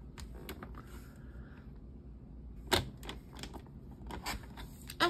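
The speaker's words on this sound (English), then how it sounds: "let me get my cutter up here and cut 2 1/2" A paper cutter slices through card stock with a series of quiet, sharp clicks and scraping snaps spread across several seconds, faint and close with no speech heard.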